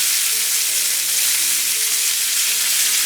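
Ginger tamarind pork chops sizzle steadily in a hot pan, a dense, even hiss that stays loud and close throughout as the chops are turned over, with no talking.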